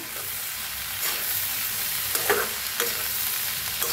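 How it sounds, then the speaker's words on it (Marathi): Cooked corn kernels mixed with fresh coriander and squeezed lemon juice, a soft steady scraping and stirring with a few brief clinks against the bowl, close and moderately quiet with no talking. "आता वरनं टाकायची कोथिंबीर आणि एकदम मिक्स करून घ्यायचं"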